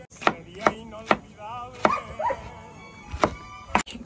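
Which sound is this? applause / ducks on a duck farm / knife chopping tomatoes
knife chopping tomatoes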